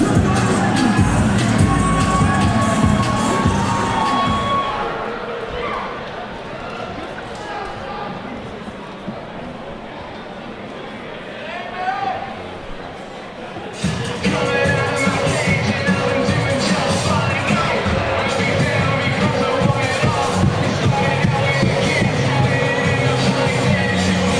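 Crowd at a Cage Titans MMA event cheering and yelling as a fighter walks out to the cage to a remixed song, loud and continuous, easing briefly before surging again, with music and voices mixed in.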